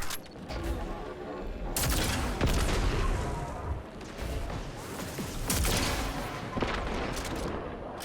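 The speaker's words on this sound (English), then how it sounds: "Now I can fire at people up there." Gunfire in a Destiny-style shooter, a Legend Lost Sector run, with repeated volleys of shots and booming blasts that come in dense bursts over a steady game backdrop.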